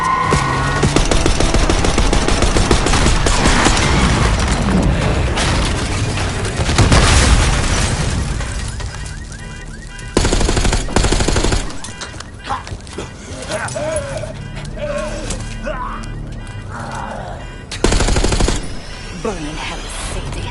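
Loud gunfire in the Black Ops video game, with booming blasts and rapid bursts mixed into music and effects, interrupted by short pauses, while voices talk over the action.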